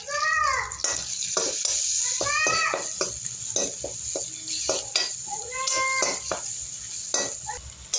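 Tomatoes fry in a pan with ginger and garlic, giving a soft sizzle with intermittent scraping stirs and utensil clinks against the pan, fairly quiet and close, with no talking.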